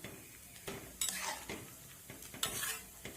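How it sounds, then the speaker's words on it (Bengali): A spoon stirs chopped bottle gourd into simmering masoor lentil dal in a pot, giving a few soft scraping and clinking strokes over a faint background sizzle, quiet and close. "লাউটা দেওয়ার পর আমি ডালের সঙ্গে লাউটাকে ভালোভাবে এপাশ ওপাশ করে নেড়ে চেড়ে মিশিয়ে নেব"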